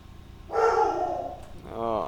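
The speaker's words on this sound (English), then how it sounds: "dog's barking again" A single dog bark, somewhat distant, followed by a short whine, heard over faint room noise.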